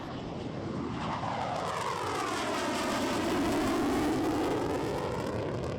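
A Panavia Tornado RAF multi-role combat jet roars past with a loud, sustained sweeping engine tone that rises and falls as it passes, with no voices.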